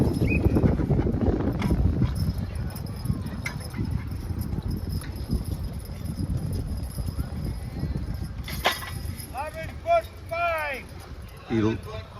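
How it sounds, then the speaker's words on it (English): A draft horse team pulls an uphill hitch at an old-fashioned county fair horse pull. Hooves clip-clop steadily, with a brief whinny-like call near the end, while voices talk over the whole stretch. "holding eveners with one hand and driving the horses with the other"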